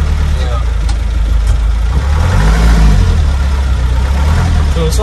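A modified truck with a soundproofed interior idles and creeps back and forth, its engine a steady low rumble that swells slightly midway, with people talking over it nearby.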